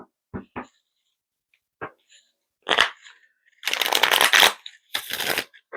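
Tarot cards being shuffled by hand in a quiet room: a few soft single flicks and taps, then a dense riffle burst followed by a second shorter riffle, close and alone.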